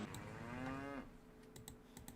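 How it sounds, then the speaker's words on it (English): A single drawn-out cow moo from a farm field in the Nancy Drew: Trail of the Twister game, fairly quiet and falling in pitch at the end, followed by soft scattered clicks. "Cows!"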